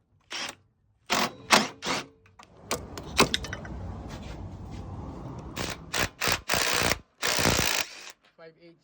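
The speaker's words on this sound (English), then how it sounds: "5/8 socket wrench." A 5/8 socket ratchet wrench loosens an intercooler hose clamp on a Freightliner truck, with sharp close ratcheting bursts separated by pauses and some rustling handling between them.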